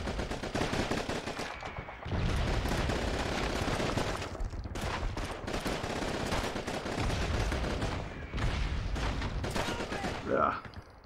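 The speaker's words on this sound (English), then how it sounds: "Who the fuck is shooting at me?" Battle gunfire in Call of Duty 2: Big Red One on PS2, sustained machine-gun bursts and rifle shots with brief lulls, loud and close, with voices mixed in.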